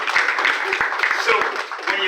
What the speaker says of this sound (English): Can I give you guys a round of applause for being entrepreneurs?